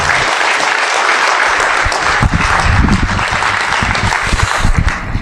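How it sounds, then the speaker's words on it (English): A large conference keynote crowd applauds loudly and continuously, a dense roar of clapping that swells slightly near the end. "Let's give a round of applause to everybody that made this possible."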